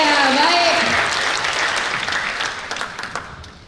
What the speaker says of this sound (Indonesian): Tepuk tangan yang meriah untuk Pak Aris Hendrawardana.